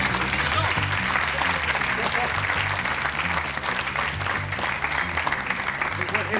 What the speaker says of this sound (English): Yes, with applause.